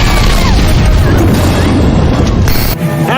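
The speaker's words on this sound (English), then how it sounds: "shows the two remaining propane tanks exploding only seconds apart" Two propane tanks exploding seconds apart in a residential neighborhood, a loud, heavy, sustained roaring blast with a sharp crack near the end, close and overwhelming.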